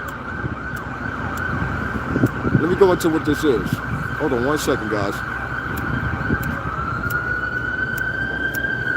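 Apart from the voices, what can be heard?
ambulance siren passing by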